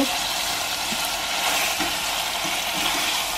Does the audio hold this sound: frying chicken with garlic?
yes